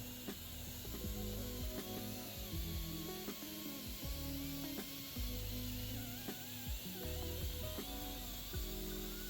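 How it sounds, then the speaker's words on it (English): A wire brush scrubs the wheel hub of a VW Tiguan during brake service, rasping in quick repeated strokes close by with scattered metallic scrapes and knocks. "you can use a wire brush like this to clean the hub"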